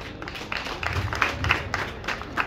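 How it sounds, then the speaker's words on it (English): A seated audience at a student association function claps, a modest spread of hand claps that swells and fades in uneven bursts. "So we have to clap for her."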